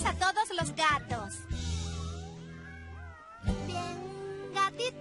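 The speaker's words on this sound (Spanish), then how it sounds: "Vamos, juntemos a todos los gatos." Cartoon cats in a children's animated show meow and caterwaul in quick, loud, wavering cries. A longer drawn-out yowl runs through the middle, with more meows bursting in near the end.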